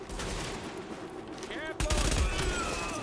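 Gunfire rattles in The Division, with rapid automatic bursts and sharp shots that grow louder and heavier in the last second, under a speaking voice and game noise.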